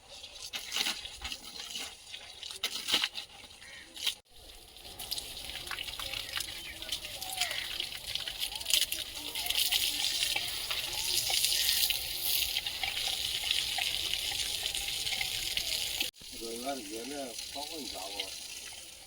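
Steady running water gushes and splashes as straw is washed clean. It flows continuously at moderate loudness, with a brief break, while people talk nearby.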